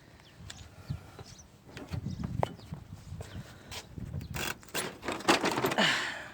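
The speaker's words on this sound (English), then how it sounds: "So the next thing to do is just pop the bumper" Plastic clips snapping and creaking as the front bumper of a 2003 Saab 9-3 is slowly pried off, a run of close clicks, rattles and cracking pops that grow denser and louder toward the end.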